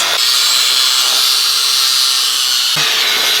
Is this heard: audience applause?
no